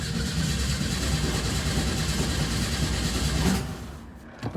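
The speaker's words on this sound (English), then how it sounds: "I'm gonna just crank the starter for a little bit so that it creates a little bit of oil" Starter motor cranking the engine of a 1967 VW Type 3 Squareback, a steady, loud, churning drone running for several seconds without catching, then cutting off abruptly near the end.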